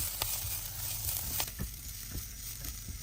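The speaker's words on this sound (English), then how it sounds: "Add the onion and saute until softened." Onion sautéing in olive oil in a small pot over medium-high heat, a steady close sizzle with a few faint stirring clicks and no talk.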